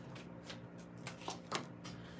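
Tarot cards are shuffled close to the microphone in a few soft, papery riffling bursts, quiet and unaccompanied by speech, with a louder flick at the end.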